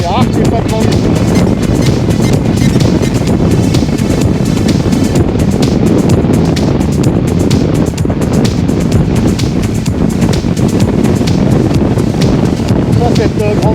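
Loud, constant coastal wind buffets the microphone in a low roar while riding an Alrendo, with a person speaking over the rumble.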